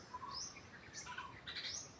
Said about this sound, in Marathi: हे बघा कसे किलबिलाट चालू आहे. खूप छान वाटतं ऐकायला पहाटेच्या वेळी.